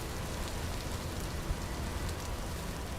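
Steady rain hisses in the survival video game Vintage Story, an even, unbroken wash of falling drops with no voices over it.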